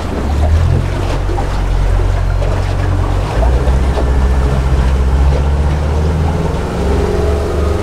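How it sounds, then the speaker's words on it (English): A single outboard engine on a Kingfisher 2825 Coastal boat, running on the starboard engine only with propellers sized for twin engines, drones steadily at close range: a low continuous rumble with water rushing around the hull, the pitch dipping briefly partway through. "Okay, so there we are, starboard engine only."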